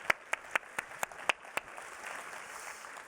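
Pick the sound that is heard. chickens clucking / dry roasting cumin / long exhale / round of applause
round of applause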